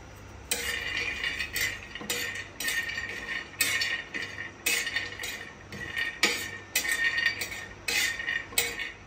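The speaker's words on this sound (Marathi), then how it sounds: "काजू टाकून घेऊया त्याच्यामध्ये आणि काजू एक 5 मिनिटं रोस्ट करून घेऊया" Cashews roast in a hot pan as a spatula scrapes and clinks against the metal in a rhythmic series of stirring strokes, fairly quiet and close, with no talk.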